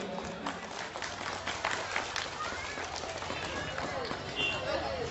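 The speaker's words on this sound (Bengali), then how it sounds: "আপনারা একটু করতালি দেবেন।" Audience at a Bengali play event applauding a donation announcement, a faint, steady patter of many hands clapping that continues without a break.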